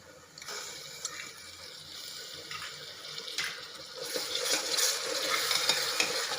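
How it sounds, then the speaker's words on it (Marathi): Ginger-garlic paste hits browned onions in hot oil for chole, giving a close continuous sizzle with stirring scrapes that grows louder and busier toward the end, no talking. "आता याच्यात आलं अद्रक लसणची पेस्ट टाकूया"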